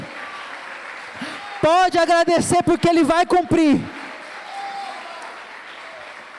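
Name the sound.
congregation applauding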